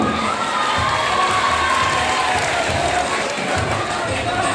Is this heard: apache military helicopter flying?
no